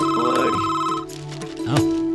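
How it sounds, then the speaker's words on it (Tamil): A telephone rings in a Tamil TV serial scene, a bright electronic ringtone heard close and clear over a faint musical background. "ஃபோன் அடிக்கிறது"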